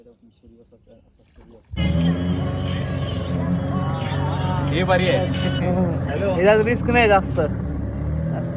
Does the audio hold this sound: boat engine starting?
yes